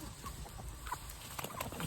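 Chickens cluck in soft, scattered bursts while being fed in a village yard, close by over a low rustling background.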